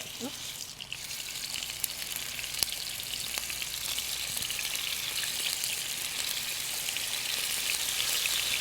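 Steak pieces laid in a single layer sear in a hot pan for a farm-to-table stir fry, giving a loud, steady, crackling sizzle that runs throughout with scattered pops.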